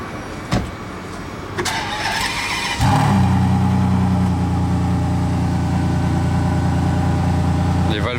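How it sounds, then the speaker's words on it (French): Supercar exhaust at Monaco with the valves closed: a deep, steady engine drone starts in and holds loud and close for several seconds, after earlier passing car noise and a brief squeal, with voices chattering underneath. "Mais même avec les valves fermées, elle fait un meilleur bruit que la F80."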